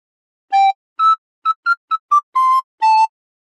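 A recorder plays a short phrase of We Wish You A Merry Christmas: eight clean, breathy notes in a steady rhythm, the later ones longer, close and clear with no talking.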